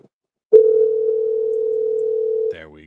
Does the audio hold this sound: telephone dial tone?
yes